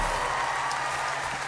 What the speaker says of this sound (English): How about another round of applause for Travis Tritt here